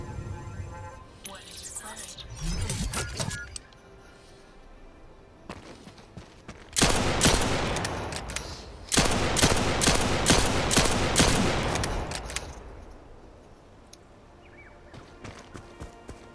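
A summoned turret in a video game fires in long, loud rapid bursts mid-clip, with game sounds and a voice talking before and after.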